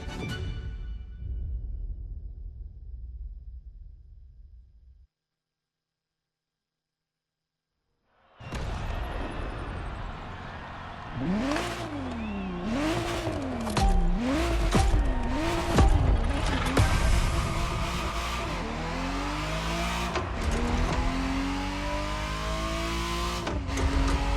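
A Ferrari Testarossa revving in a racing video game: after a brief silence the engine roars up through rising and falling revs in wavy surges, loud and close, with sharp bursts and shifting pitch throughout.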